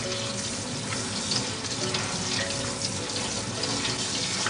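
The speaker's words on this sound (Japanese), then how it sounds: "で、流水で流すよ。" Tap water runs steadily over food being rinsed in a home kitchen while dinner is made, a constant close rushing splash with no pauses and no talk.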